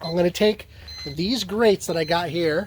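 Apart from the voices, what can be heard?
smoker grill temperature alarm going off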